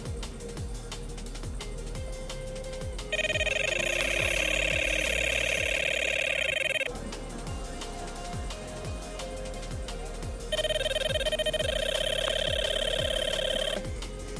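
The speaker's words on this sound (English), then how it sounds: "Turn your alarms off, Noddy." Electronic fishing bite alarms beep at a carp fishing lake, sounding in two long bursts of steady high tones over a constant background hum and rapid ticking, with no talking.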